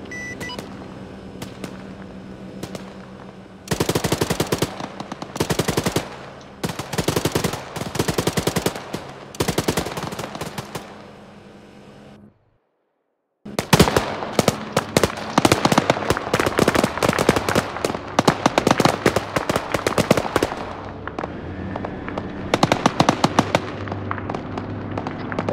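Machine gun fire in the ArmA 3 video game: loud, dense bursts of automatic shots in repeated volleys, a brief silent gap midway, then sustained rapid firing continuing to the end.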